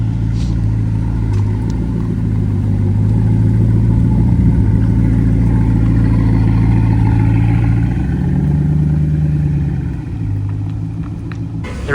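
A Porsche 918 hypercar runs at a car week gathering in a parking lot, giving a loud, steady low engine rumble that rises into a revving swell and then settles back to idle, with no talking over it.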